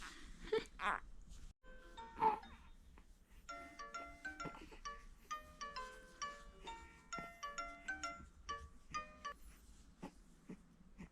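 Phone ringback tone heard while calling a grandfather from home, in a day with a three-month-old baby: repeated short electronic tone bursts in a steady pattern, quiet and close, after a couple of brief sounds at the start.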